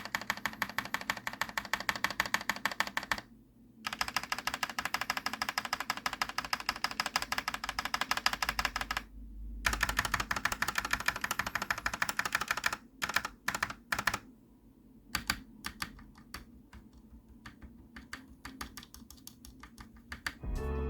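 Rapid typing clatters on a Gamakay LK67 mechanical keyboard fitted with PE foam, silicone O-rings and an iron weight. Dense, even keystrokes run in fast bursts, broken by short pauses and then sparser taps, close and crisp.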